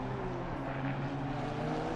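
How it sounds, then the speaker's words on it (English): A Honda GT3 car's VTEC engine roars steadily and loudly as it races around Kyalami in Assetto Corsa Competizione, a sustained droning tone holding throughout with no talk. "That Honda definitely sounds very nice. That VTEC engine making it roar."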